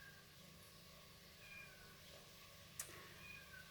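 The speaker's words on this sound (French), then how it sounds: "vous entendez mon chat, un des chats qui miaule alors que la fenêtre est ouverte." A faint domestic cat meows indoors beside an open window, with one brief sharp call over a quiet room hum.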